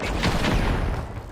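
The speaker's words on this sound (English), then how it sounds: "Tossing a frag!" A frag grenade goes off in the game The Finals with a loud, close, rumbling blast that decays over about a second.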